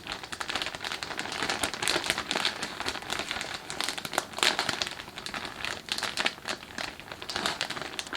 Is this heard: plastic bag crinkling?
yes